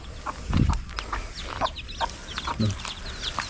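Naked neck chicken chicks clucking and cheeping in short bursts inside a coop, close and fairly loud against a low background rumble.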